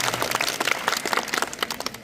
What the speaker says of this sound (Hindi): इसलिए जोरदार तालियां इनके लिए, इनके योगदान के लिए